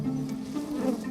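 Bees buzz steadily at a beehive in a small back garden, a close, continuous droning hum with no voices over it.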